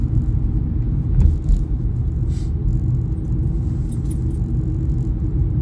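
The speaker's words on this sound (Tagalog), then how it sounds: "Medyo traffic na naman tong madadaanan natin." Steady low road rumble of cars moving through Monday morning traffic in dim early light with snow around, a continuous close engine drone with a brief louder swell near the start and faint rattles above.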